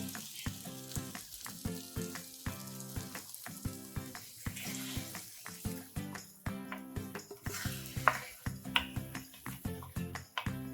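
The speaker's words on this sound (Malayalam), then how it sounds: "നെയ്യിൽ ചെറുതായിട്ടൊന്ന് വഴറ്റാം" Wheat sautés in ghee in a pan with a soft, steady sizzle broken by repeated crackling pops and stirring scrapes, quiet and close.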